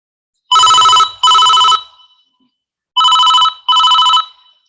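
A telephone rings with an incoming call, two loud electronic bursts, a pause, then two more bursts, with no talking over it.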